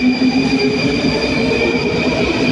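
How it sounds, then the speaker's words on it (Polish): A Warsaw metro train stands at a station, its loud steady rumble carrying high tonal whines from the electric drive and faint wheel squeal throughout, with no talk. "Patrzcie, jakie ładne te metro w Warszawie mamy."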